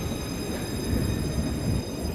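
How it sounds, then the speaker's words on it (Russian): Barcelona tram running past, a steady low rumble of wheels and motors close by with a faint high whine above, continuous and even for the whole stretch, no voices. "Покажу вам наш космический трамвай прикольный."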